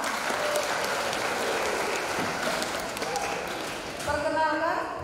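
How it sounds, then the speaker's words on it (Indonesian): An audience at an anti-narcotics awareness session in Yogyakarta applauds steadily for about five seconds, a dense wash of clapping that thins slightly near the end as a voice starts up faintly. "Oke, tepuk tangan buat kita semua."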